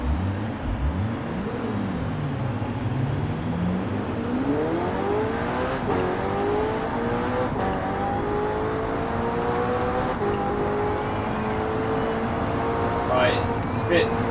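A McLaren 600LT engine in Forza Horizon 4 revs and climbs through gears while racing around a track, loud and sustained with shifting pitch sweeps, under faint background sound.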